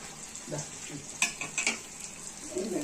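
Ariselu, rice-and-jaggery sweets, bubble and puff in hot oil with a steady soft sizzle, broken by a few brief scraping clinks of a utensil against the pan.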